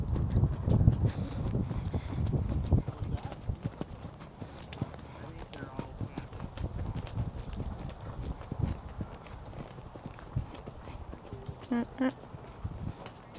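A horse trots in circles under a rider, its hooves giving a steady, fairly quiet clip-clop that runs continuously beneath a person talking.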